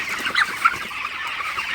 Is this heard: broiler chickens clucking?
yes